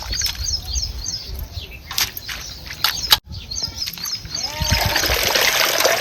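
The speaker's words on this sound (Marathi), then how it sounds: "चांगली अशी बुडवून बुडवून धुवून घ्यायची" Radish leaves are dipped and swished repeatedly in a basin of water, giving close sloshing, dribbling and splashing sounds in uneven bursts, with light rustles and a brief knock midway.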